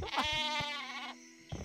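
Sheep bleating in the video game Worms Reloaded, one long wavering bleat close and loud, with short game effects at the start and end.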